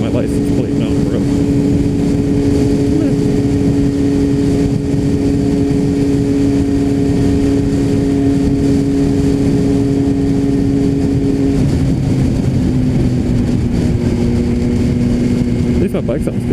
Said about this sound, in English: At least my bike sounds good.